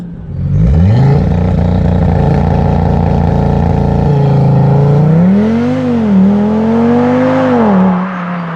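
A car accelerates hard on turbo boost: the engine holds a loud, steady drone, then climbs in pitch through several gear changes. The roar stays close and powerful throughout with no talk over it.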